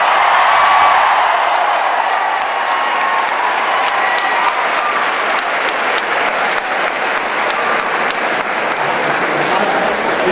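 Sustained, loud audience applause fills the hall at a Sanjay Ghodawat Group event as Navjot Singh Sidhu is welcomed, a dense, even clatter of many hands with crowd noise, running unbroken for about ten seconds.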